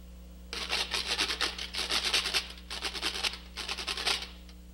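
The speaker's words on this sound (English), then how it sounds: "Grater." A kitchen grater scraped in quick, rasping strokes, loud and close, in three bursts with brief gaps, over a steady low hum.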